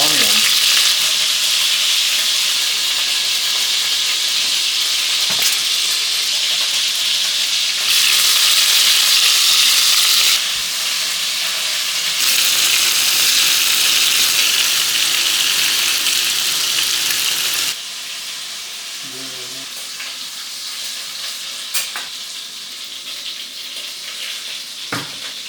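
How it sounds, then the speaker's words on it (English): Chunks of beef sizzle and spit steadily in a hot pan for Hungarian goulash, a dense, loud frying hiss that swells and dips as the meat is stirred or shifted, with occasional light clicks and no voices. "When frying the meat"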